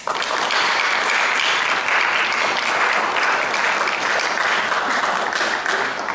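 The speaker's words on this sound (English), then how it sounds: "Let's applaud these students." A school assembly audience at a diversity awards ceremony claps loudly and continuously, a full, even roar of applause with no break.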